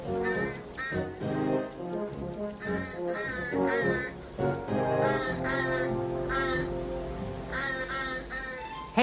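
A cartoon bird caws loudly and repeatedly in a farmyard by a hen house, harsh rhythmic calls that go on for several seconds, close and prominent, with talk mixed in.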